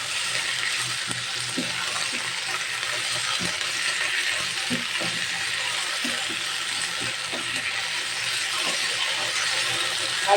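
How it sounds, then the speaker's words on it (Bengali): Okra fries in hot oil in a pan, filling the space with a loud, steady sizzle, while a spoon stirs it with scattered close scrapes and taps; no one talks. "এখন আমি ঢেঁড়সটা দিয়ে দিচ্ছি। ঢেঁড়সটা দিয়ে একটু নেড়ে নেব।"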